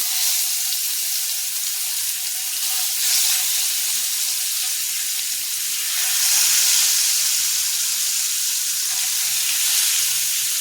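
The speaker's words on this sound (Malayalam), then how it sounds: "ആദ്യം നമ്മൾ ഒന്ന് വറുത്തെടുക്കുന്നുണ്ട്" Food fries in hot oil with a steady, loud hissing sizzle that swells slightly midway and continues unbroken, heard up close without talking.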